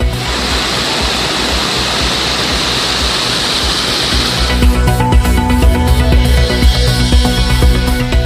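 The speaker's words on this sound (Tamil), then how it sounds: "கனமழை பெய்து ஓடைகளில் தண்ணீர் பெருக்கெடுத்து வருவதால்" Floodwater from heavy rain surges loudly through hill streams near the Sathuragiri temple in Virudhunagar district as a continuous broadband roar. Halfway through, a music bed comes in over the rushing water.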